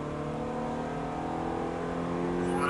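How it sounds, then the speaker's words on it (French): A Ferrari F430 at full throttle, its engine note a steady, rising whine with strong harmonic tones, climbing in pitch and loudness over a few seconds. "Allez, gaz à fond, on écrase la pédale."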